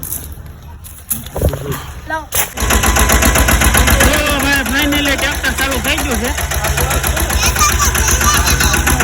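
A farm tractor engine starts after a few quiet seconds, then runs loud and close with a rapid knocking chug that continues steadily while people talk over it.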